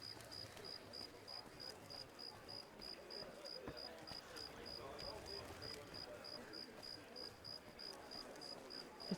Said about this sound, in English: The crickets are so loud.